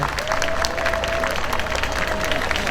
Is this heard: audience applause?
yes